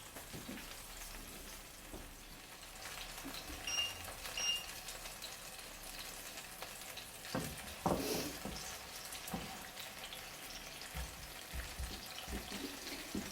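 Pasta e fagioli ingredients cooking slowly in a pan over low heat, giving a soft, steady sizzle and faint frying crackle with a few louder pops and stir sounds, and no talking.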